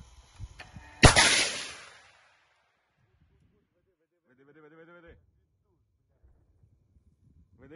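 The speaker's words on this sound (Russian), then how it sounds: "Выстрел." A single loud shot fired at an occupiers' tank by Ukrainian soldiers in Mykolaiv region, a sharp blast trailing into a decaying rumble, followed by near silence and a brief burst of talk in the clip.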